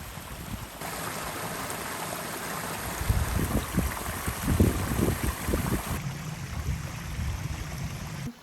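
Close by a rock, a stream flows in a steady broadband wash, with bursts of gurgling splashes coming through in the middle.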